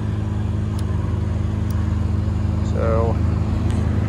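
A JLG 330 CRT scissor lift's unleaded gasoline engine idles with a steady low drone and faint rhythmic throb, close and continuous, while someone talks briefly over it.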